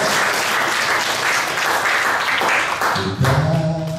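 Audience applause in a church setting during a community Mass and adoration, a dense, loud wash of clapping from a crowd that carries on steadily and then gives way to other sound near the end.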